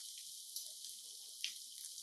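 Water for a one-pot yellow dal made with toor dal and split yellow peas runs steadily as a broad hiss into the pot, with a couple of brief splashy peaks, heard close and alone without talk.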